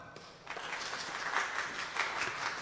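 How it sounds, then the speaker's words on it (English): A church congregation claps during a sermon. The applause is faint and distant, a soft steady patter with no voices over it. "If you tell the alien you're sorry, but you do not want their knowledge inside your head, go ahead and clap"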